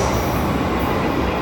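A train passes through a station as a loud, steady, close rumble with wheel and rail noise filling the whole moment.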